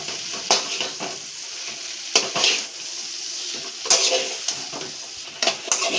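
Egg noodles being tossed and stirred in a hot pan, with sizzling frying and a spatula scraping and clanking against the metal in several distinct bursts.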